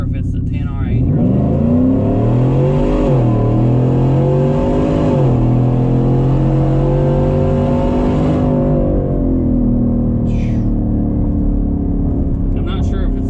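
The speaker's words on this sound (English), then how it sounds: "I'm not sure if it's the Supercharger or the 10R80, but it just seems like it pulls." A supercharged 600+ horsepower work truck with a 10R80 transmission accelerates hard, its engine note climbing and dropping through gear shifts, loud and close, with no other sounds over it.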